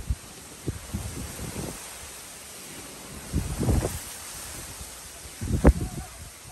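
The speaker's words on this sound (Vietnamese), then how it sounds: "Gió rất là mạnh luôn." Strong gusting wind roars across the slopes of Mt. Batulao, buffeting the microphone in loud surges, with dense rustling between the gusts.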